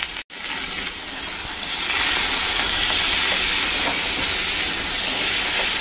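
Turmeric powder and salt stirred into hot oil for a potato and drumstick curry give a steady, bright hissing sizzle that swells after a brief pause near the start and holds on at medium flame, with no voices.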